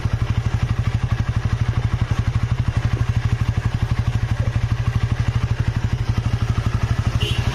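A rebuilt Honda Sonic motorcycle engine idles close by, a steady rapid stream of even, thudding exhaust pulses with a light mechanical clatter, running without a break throughout.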